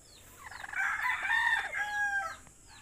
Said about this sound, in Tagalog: Manok na parang kwago.